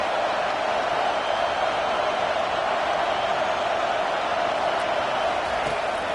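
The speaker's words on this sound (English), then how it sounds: "This crowd bringing the energy and noise early." Steady roar of a stadium crowd in a college football video game, a continuous broad wash of cheering noise at even loudness throughout with no distinct voices standing out.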